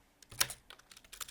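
Quick, light keystrokes tap on a computer keyboard, a soft irregular clatter of several keys pressed in close succession, near and quiet.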